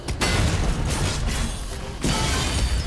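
Heavy footsteps and jump landings thud loudly through Doom: The Dark Ages, a dense clanking rumble with sharp impacts near the start and again about two-thirds through.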